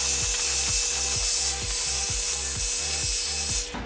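A hairbrush dragged through freshly washed, dried hair: about a dozen close, even, rhythmic bristle strokes that scrape and rasp steadily for several seconds, with no voices.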